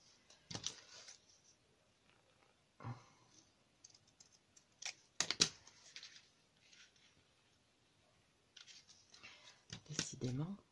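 Scissors snipping through paper while a flip book is trimmed, a few separate crisp cuts spread out and close by, with a person talking in between.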